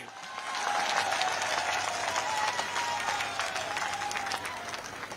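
A large crowd at a political rally in Guna, Madhya Pradesh, breaks into loud, sustained applause that swells within the first second and holds steady as a dense wash of clapping.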